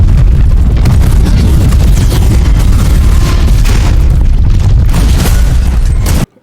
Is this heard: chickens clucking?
no